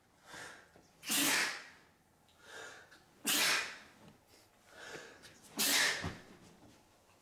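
A man sneezes hard three times, each loud explosive burst preceded by a sharp intake of breath, the sneezes spaced about two seconds apart.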